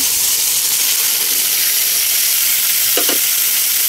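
Saba bananas frying in a pan with boiled eggplant and tuna give a loud, steady close sizzle and hiss, with a brief double knock of stirring near the end and no voices.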